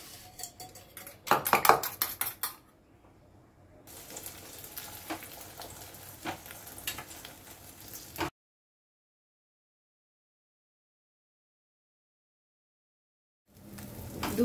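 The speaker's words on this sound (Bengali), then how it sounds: "কড়াই আমি তেল দেব। তেল দিয়ে ডিমের অমলেটটা আগে বানিয়ে নেব।" Egg omelette cooks in oil in a wok, with sharp metallic clatter of utensils first, then a few seconds of soft sizzling, followed by a long silence before the sound resumes briefly.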